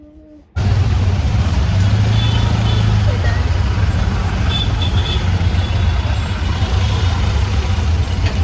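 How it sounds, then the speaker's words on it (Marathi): Heavy night traffic roars past on a highway as a loud, steady rumble of trucks and buses that starts abruptly and continues throughout, with a faint hiss of air brakes. "एवढं ट्रॅफिक आहे ना आणि मला रोड क्रॉस करायचा एवढा महान फोबी आहे"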